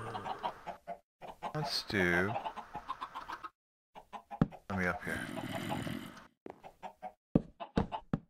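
Chickens in the Minecraft video game cluck in short, close bursts, mixed in with a player talking over them.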